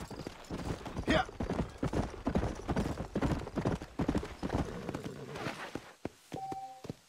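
Horse hooves clip-clop steadily in a Red Dead Redemption game scene, a continuous rhythmic walking gait close by, with a brief whinny and a clear tonal game sound near the end.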